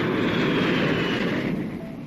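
Aircraft take off from a carrier deck in a toy advert, a loud, dense roaring jet-engine rush that fills the short moment and fades slightly toward the end.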